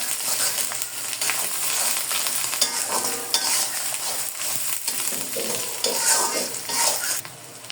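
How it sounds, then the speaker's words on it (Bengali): Onions fry with a small amount of paste and turmeric powder in a pan, a bright continuous sizzle broken by scraping stirs close by, with no talk. "হয়ে গিয়েছে আমার পেঁয়াজটা ভাজা"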